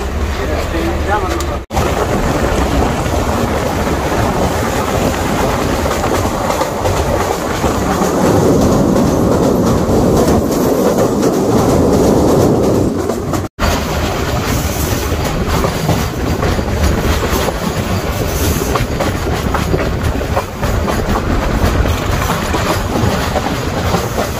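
Riding inside a moving passenger train in Bangladesh near Gazipur, a steady loud rumble of wheels and carriage noise running throughout with rhythmic clatter, with passengers' chatter faintly mixed in.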